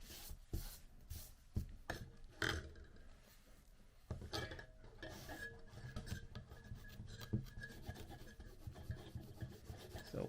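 Rubbing and scraping across the contact pads of a remote control circuit board during cleaning, a close, steady rasping friction with sharp little scuffs and clicks throughout, no voices.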